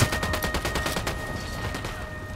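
Rapid bursts of automatic gunfire from Ghost Recon Wildlands rattle out in a fast, loud volley that thins and trails off after the first second into quieter scattered shots.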